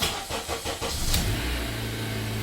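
A car engine runs after starting, with a few quick sputtering pulses at first, then a steady low idle rumble close by.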